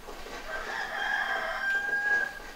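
A rooster crows from a sound-effects record playing in a barn, a long, bright drawn-out call heard alone and fairly close, with no talking over it.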